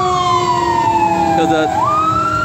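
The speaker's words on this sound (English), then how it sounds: "Hold on, we're gonna let this ambulance go by real quick" An ambulance siren wails as it passes by, loud and close, its pitch sliding downward as it goes, with a voice speaking briefly over it.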